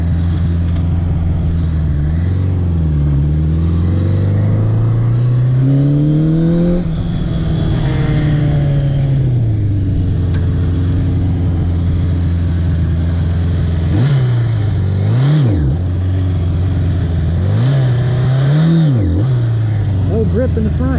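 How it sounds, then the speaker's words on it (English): Suzuki GS550 motorcycle engine revving hard in a burnout attempt, loud and close, with repeated rising and falling throttle blips over a steady low idle, while people talk nearby. "I vote we go for a burnout"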